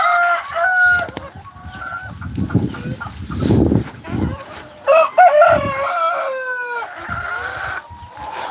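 Chickens in a farmyard, with a hen clucking as she gets ready to lay an egg, mixed with a rooster crowing and other fowl calls; several close, loud calls overlap in a busy, continuous stretch.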